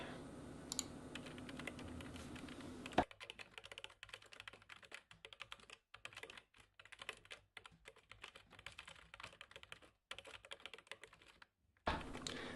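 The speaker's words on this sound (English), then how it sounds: "here we got the forceful typing" Generated effect of forceful keyboard typing: rapid, hard keystrokes clattering steadily at close range, with a brief pause near the end.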